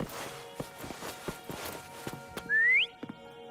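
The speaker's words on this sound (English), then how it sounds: "Try whistling." A rising whistle in Wuthering Waves calls a mount, one smooth upward-sweeping tone lasting about a third of a second, loud and clear after a stretch of footsteps and light game effects.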